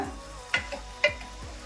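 A spoon stirs cooked greens in a pot for sambar, making a few distinct scraping clinks about half a second apart over a low bubbling simmer, close up with no voices.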